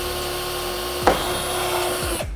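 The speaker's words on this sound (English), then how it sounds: "We're going right into the 3/16. We're gonna apply a little bit of pressure," A drill with a 3/16 bit presses into carbon fiber car parts, giving a steady, close motor whine with a sharp bite as the bit catches partway through, lasting only a couple of seconds.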